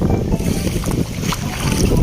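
Strong wind roars steadily against the microphone on a boat at sea, a constant buffeting rush with a faint splash of water beneath.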